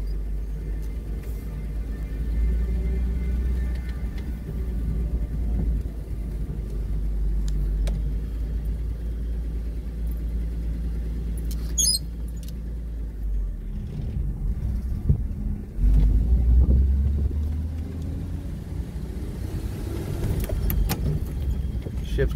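A 1940 Chevrolet Master Deluxe business coupe drives along, its engine a low steady rumble heard from inside the car, with faint rattles and a brief jingle partway through and little talk.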